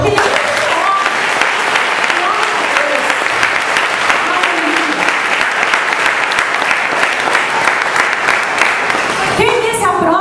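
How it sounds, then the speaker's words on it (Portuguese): A church congregation applauds steadily and loudly, a dense wash of clapping that fills the space for about nine seconds before tapering off at the end. "Dê um aplauso ao Senhor"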